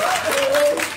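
Brief clapping from a church congregation, a short burst of many hands with a sustained tone and some voices mixed in underneath.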